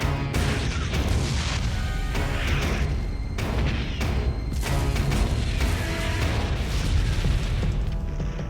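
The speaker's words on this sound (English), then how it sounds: "a force tens of thousands of men strong approaches the Norman coast and unleashes a massive naval bombardment" A massive naval bombardment off the Norman coast, with heavy shipboard guns firing in a continuous loud barrage of deep booms and crashing blasts overlapping one another.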